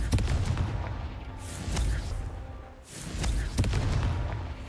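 In the video game Hogwarts Legacy, the Confringo spell sets off booming explosions, with two heavy blasts and rumbling debris over a dense, loud game soundscape.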